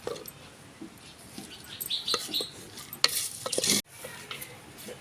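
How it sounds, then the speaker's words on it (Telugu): Prawns fry in a pan with a steady crackling sizzle, broken by scraping stirs and clinks of a utensil, then a louder burst of spitting just before the sound cuts off abruptly. "రొయ్యలు వేగినాయి అది ఇస్తానా"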